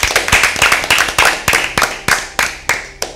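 An audience claps for a team at a Bible quiz show, a round of rhythmic, fairly loud unison claps, roughly three per second, sharp and even from start to finish.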